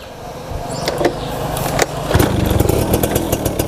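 An RC motorcycle, a family-use bike, starting up, a brief cranking whir followed by the engine catching and running at a steady, fairly quiet idle with a light rhythmic pulse, close by and alone.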